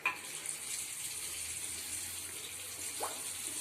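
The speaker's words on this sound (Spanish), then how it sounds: "Volvemos a abrir el grifo." Water runs steadily from an opened tap during the diagnosis of a faulty Titán water heater, a constant hissing rush with no voices over it.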